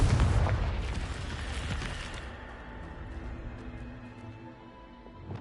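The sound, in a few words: Confringo spell explosion in a video game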